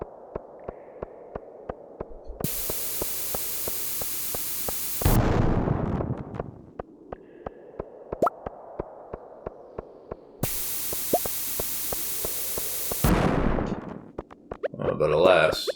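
Cherry bombs going off in Stardew Valley, two loud bursts of hissing fuse noise each ending in an explosive blast, with regular clicks running throughout.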